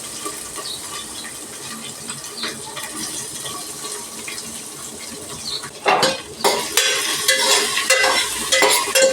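Bay leaf, potato, tomato, carrot, ginger and garlic stirred in a pot, a quiet hiss at first, then loud close scraping and clanking of a spoon against the metal, no talking.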